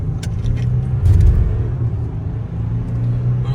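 Audi A6 45 TDI Avant diesel estate pulling away in second gear, a deep steady engine rumble heard from inside the cabin, swelling briefly then holding a strong even drone.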